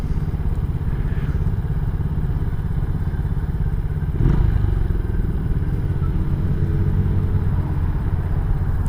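A 2023 Venom SS3 KP mini 150 motorcycle runs with a steady, buzzy single-cylinder engine drone throughout, fairly close, with a brief thump partway through and no talking.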